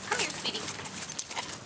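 A dog whimpers in short, soft, high-pitched whines and yips, close by, with a person talking over it.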